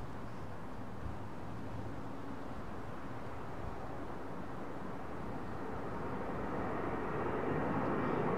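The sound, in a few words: airliner departing from runway 09R at London Heathrow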